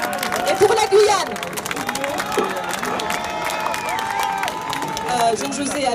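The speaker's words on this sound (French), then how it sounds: "Des applaudissements pour Monsieur Mathias et pour la Guyane" Crowd cheering and applause ring out at a social rally for French Guiana, loud and sustained with shouts and babble throughout, swelling again near the end.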